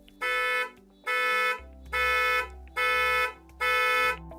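Hyundai Ioniq 5 horn sounded remotely through the Bluelink app: five evenly spaced, loud horn blasts, each about half a second long with short gaps, heard close and clear with a faint hum underneath.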